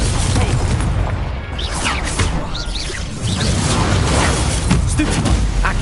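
Confringo blasting spell going off in a Harry Potter video game, a dense, continuous roar of blasts and whooshing bursts filling the whole stretch at high volume, with no clear gaps between impacts.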